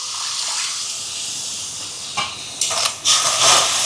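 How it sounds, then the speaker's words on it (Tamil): Water hits hot sugar in a pan while making Sri Lankan athirasa kawum syrup, giving a steady sizzling hiss that swells into louder bursts of spitting toward the end. "இப்போ தண்ணி சேர்க்குறேன்,"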